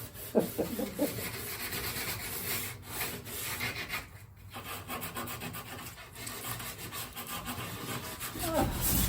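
Soft hand sanding on wood of a Wharram Tiki 21 catamaran build, a continuous rubbing rasp with a brief pause midway, close and fairly quiet.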